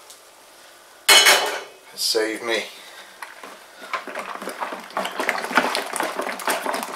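Water left in a pan that heated a tin of malt extract is poured into a homebrew fermenter for a Cooper's Australian Stout. A sharp clank of metal comes first, then a steady splashing pour that builds over a brief spoken phrase.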